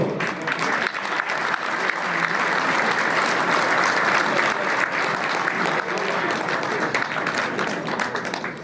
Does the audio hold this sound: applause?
yes